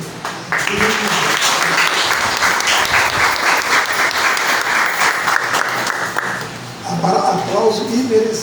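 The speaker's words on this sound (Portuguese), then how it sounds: "Aplauso imerecido, mas eu aceito." An audience applauds for several seconds in a steady, dense wash of clapping, tapering near the end as a voice begins speaking over it.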